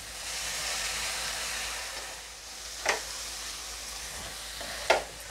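Shredded cabbage and chana dal being sautéed in a pan, giving a steady soft sizzle with two sharp scraping stirs of a spatula against the pan, no voices.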